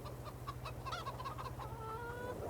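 Chickens cluck repeatedly in a Farming Simulator 22 farm scene, a steady run of short clucks with a squawk, over a constant low mechanical hum, no voices.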